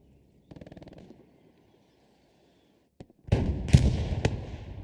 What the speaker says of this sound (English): artillery exploding, rockets flying